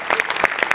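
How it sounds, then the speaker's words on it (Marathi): A studio audience claps for a comedy sketch writer in a short, lively burst of applause, close and steady with no talking. "याच्यात तुझ्या लेखकासाठी जोरदार टाळ्या एकदा."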